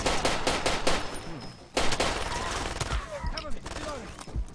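A MAC submachine gun in Far Cry 2 rattles off short bursts of rapid gunfire, and spent casings ring out between them. A voice talks over the shooting.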